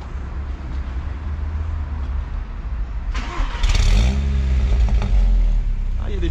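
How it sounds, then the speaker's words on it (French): A Stage 2 tuned 360 hp car engine rumbles at idle in a parking garage, then revs sharply, with sputtering crackles from the exhaust as it settles, loud and close. "Des petits craquements."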